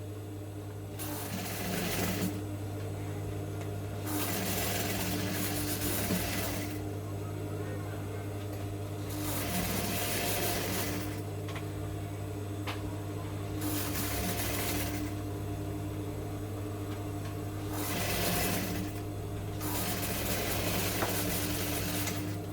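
A sewing machine stitches the second side of a corset gown in bursts of several seconds, with a steady low motor hum running underneath throughout, close and continuous.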